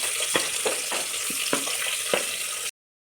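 Chopped onions are frying in coconut oil inside a pressure cooker, giving a soft, continuous sizzle with several sharp stirring knocks. The sound stops abruptly near the end, and nobody speaks.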